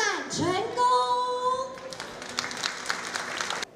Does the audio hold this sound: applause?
yes